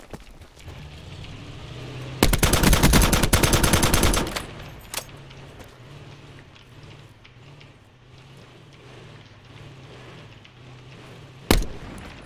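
Automatic gunfire in the video game Call of Duty Blackout, a loud two-second burst of rapid shots over a low engine hum, followed by a quieter stretch and one sharp single shot near the end.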